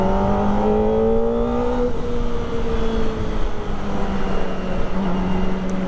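A Kawasaki ZX25R motorcycle engine revving, its pitch stepping down through downshifts with quick auto-blipper throttle blips, loud and close with no talking.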